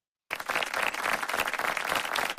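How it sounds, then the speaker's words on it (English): Audience on a talk show applauds as an international recording artist is introduced as a guest, a dense, steady burst of clapping that starts abruptly and carries on at full strength throughout. "let's give a warm round of applause to international recording artist"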